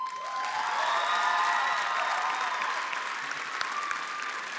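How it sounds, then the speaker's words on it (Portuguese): Audience applause at a televised talent show gala in Portugal, a broad, sustained wash of clapping from a large crowd, heard from some distance, steady for the whole stretch with light cheering mixed in. "Merece realmente o nosso enorme aplauso."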